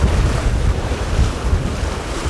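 Rough sea waves crash and churn under strong gusting wind buffeting the microphone, a loud continuous roar heard from a small fishing boat.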